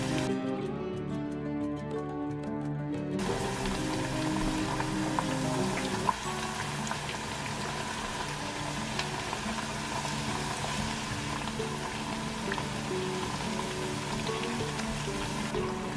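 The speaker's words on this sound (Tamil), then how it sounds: "ஸோ அதில் வந்து மீடியம் ஹீட்லேயே வச்சு பொரிப்போம்" Point Pedro vadai deep-frying in oil over medium heat, a dense, steady crackling sizzle that swells to fill the sound after a few seconds and carries on with no talking.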